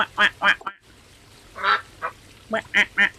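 A duck gives about eight loud, nasal quacks, close by, in two bursts separated by a short pause.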